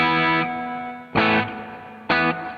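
A guitar plays through a budget reverb pedal on its room setting with the decay turned way up. Three strummed chords each bloom loudly and leave a washy, lingering tail, with no one speaking.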